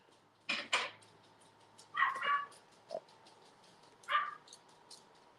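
Dog barking indoors, a few scattered yips and barks with gaps between them, moderately close over quiet room noise.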